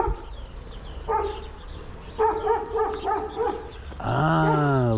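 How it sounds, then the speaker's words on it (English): A dog in Pogradec, Albania barks in several sharp, loud bursts at close range, ending in a long, rising whine or howl, with no talk over it. "I can't tell if that dog's pissed or happy to see me"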